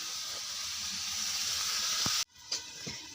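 Vegetables such as eggplant and potato sizzling steadily in a pan in a home kitchen, a continuous loud hissing fry that briefly cuts out near the end before resuming with light clatter.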